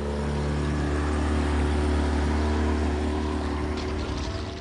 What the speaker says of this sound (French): Juste une barque avec un moteur.